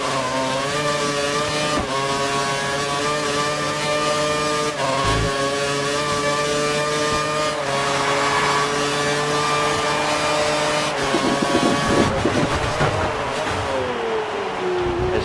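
GP2 race car engines in a sim racing league race at Korea, a steady loud high-pitched whine of several closely following cars with gear shifts and pitch changes, continuous throughout with no talk.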